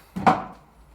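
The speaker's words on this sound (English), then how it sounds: "So when you open that door" An old cottage door opens straight into a kitchen, giving a short wooden knock and a brief creaking thud that fades quickly, close and fairly loud with no talking.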